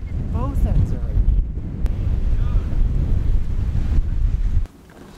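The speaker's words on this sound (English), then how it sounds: "It's raining and it's windy" Strong gusty wind buffeting the microphone outdoors in rain, with brief faint voices under the roar, cutting off abruptly near the end.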